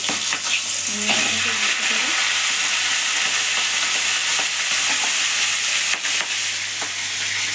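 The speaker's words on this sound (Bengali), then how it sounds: "তেল গরম হয়ে গেছে, এবার মাছের মাথা দুটোকে আমি দিয়ে দেব।" Loud, steady sizzling of fish heads frying in hot oil, continuous and close, with occasional stirring scrapes and no talking.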